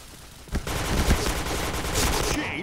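Rapid video-game gunfire in a shooter match, a dense continuous automatic burst that stays loud and close for the whole stretch, with faint voices underneath.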